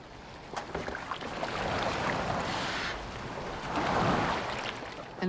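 Boat moving across water in Assassin's Creed Valhalla, a steady wash of waves and hull splashing that swells and fades, with no voices.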